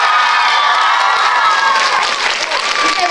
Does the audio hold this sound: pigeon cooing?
no